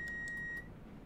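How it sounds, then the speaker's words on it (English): A train cab safety alarm in a train simulator game beeps in short repeated pulses over a steady tone that cuts off halfway, leaving a faint low cab hum. "All these alarms going off."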